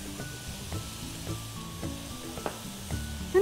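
Ginger, garlic and chilies sizzle in a dry pan with no oil, a steady close frying hiss broken by a few soft stirring knocks.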